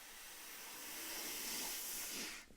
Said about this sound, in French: Inspire à fond par le nez.